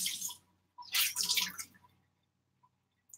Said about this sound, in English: cover it with water until it's an inch above the beans